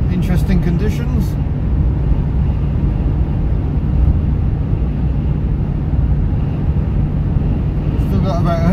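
A CityRover car drives the A38 through rain spray and showers, giving a loud, continuous road and tyre roar with a steady engine drone. A few faint ticks come near the start and the end.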